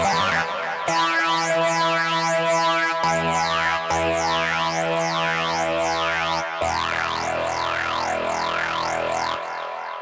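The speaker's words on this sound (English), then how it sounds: "So it sounds like this." A bright synth lead preset plays a Goa trance line, with fast sweeping filtered notes in a call-and-response pattern over sustained tones; loud and continuous with no talk.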